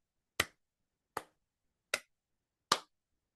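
Four slow, evenly spaced single claps, close and crisp, with silence between each one.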